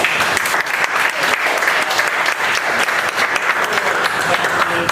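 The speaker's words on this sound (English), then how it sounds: "Let's give him a quick round of applause." An audience at a talk on the future of the connected city gives a speaker sustained, even applause, many hands clapping densely and loudly for the whole stretch.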